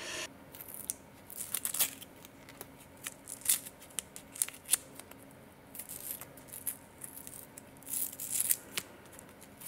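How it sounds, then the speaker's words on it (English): Tape peeled and pulled off a wire-wrapped tree of life pendant with a woven bail, heard as faint, close, irregular crackles and short tearing bursts scattered throughout with no talking. "So now you can remove the tape that's holding this together"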